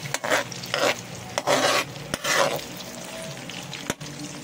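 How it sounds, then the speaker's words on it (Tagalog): Hotdogs fry in a pan on an electric stove, with several bursts of scraping as they are stirred over a steady low sizzle, close and fairly quiet. "Lutuin muna natin ang hotdog. Hotdog muna, kailangan natin pretohin."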